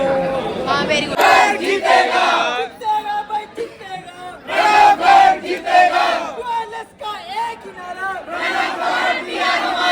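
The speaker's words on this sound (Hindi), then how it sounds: "तो ऐसी अभी भीड़ हो रखी है हमारे डिपार्टमेंट में फुल" A dense crowd of students packs a university department at Panjab University in Chandigarh during campus elections, with loud continuous shouting, chanting and overlapping voices swelling and dipping throughout.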